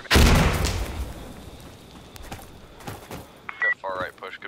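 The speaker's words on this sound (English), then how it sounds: "I should call in chemical mortars." A chemical mortar strike in the video game Insurgency Sandstorm lands as a heavy, booming blast at the start, then fades into scattered distant pops and rumble, with a voice talking near the end.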